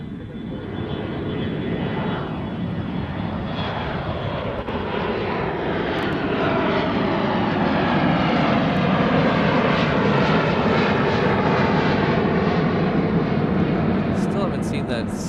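A Korean Air Boeing 787 Dreamliner airliner passing at an airport in Honolulu, giving a loud, broad engine roar that builds steadily and stays strong throughout.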